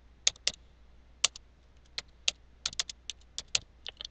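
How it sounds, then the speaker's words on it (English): Someone types an address on a computer keyboard in a quiet room, producing sharp, close, irregular keystroke clicks with short pauses between bursts. "you simply type in the information and you're going to press enter, copy it over to the billing side, and simply type in the address"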